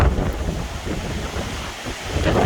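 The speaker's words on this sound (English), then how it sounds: "Here goes the winds again, lapping the docks." Gusty wind roars across the microphone over a steady wash of waves lapping against docks as a thunderstorm front approaches, continuous and loud with no voices.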